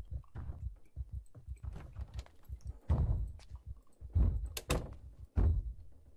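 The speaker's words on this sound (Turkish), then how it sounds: "Biri bir yerden vuruyor. Aşağı katı tepikliyor muhtemelen." Someone bangs or kicks on a lower floor in the video game Project Zomboid: a series of dull, heavy thuds in an irregular rhythm, several louder blows toward the end.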